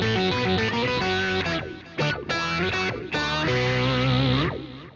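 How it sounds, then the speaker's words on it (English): Overdriven synth bass tone from a BOSS SY-200 guitar synthesizer, blended with the direct guitar, playing thick distorted sustained notes with short gaps between phrases, loud and up front. "if I want to blend an overdriven bass kind of sound,"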